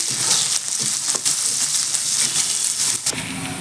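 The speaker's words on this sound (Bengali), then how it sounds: "সেটা এখন পেঁয়াজ কুচিটা অ্যাড করে দেবো পেঁয়াজ কুচি" Chopped onion hitting hot oil tempered with whole cumin and a dried red chilli, frying with a loud, steady sizzle and occasional stirring scrapes, close up and without talk.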